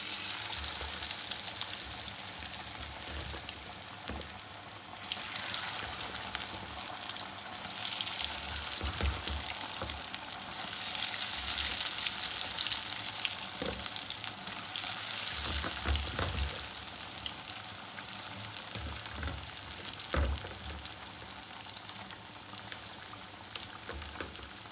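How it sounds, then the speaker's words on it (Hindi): Potato fries coated in gram flour batter frying in hot oil give a steady, loud, crackling sizzle throughout, broken by occasional clicks and knocks of stirring, with no voices. "अब थोड़ा सा इसको मिक्स करके ऐसे ऑयल के अंदर डाल देंगे।"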